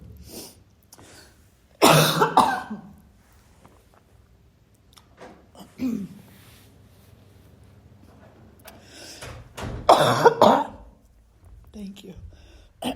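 A person coughs hard in a few separate bursts with quiet pauses between, close by, with faint murmuring in the background.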